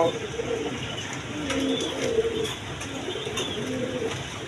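Red-coloured pigeons offered for sale coo in soft, repeated low warbling phrases close by, with faint background hiss and no clear talking over them.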